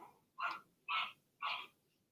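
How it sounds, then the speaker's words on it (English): A dog barks three times in an even rhythm, each bark short, sharp and fairly close, with quiet between them and no talking. "That's my mother's dog making the noise."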